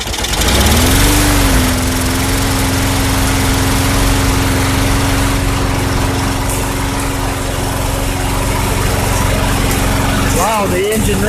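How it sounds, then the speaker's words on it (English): A 2006 Craftsman riding mower engine catches and keeps running at a steady, loud idle with a constant buzzing drone, ending with a brief sputter and a short spoken reaction. "Wow, the engine runs."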